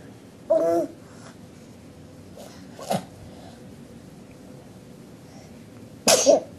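A cat sneezes in a few sharp, brief bursts spaced several seconds apart, close and fairly loud against a quiet room.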